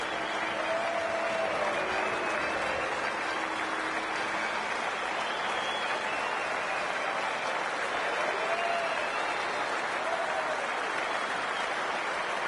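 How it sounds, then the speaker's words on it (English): A large cricket crowd in the video game Cricket 24 applauds and cheers continuously, a dense wash of clapping with occasional faint whistles rising above it. "It is the most enthusiastic crowd you could ever see right now."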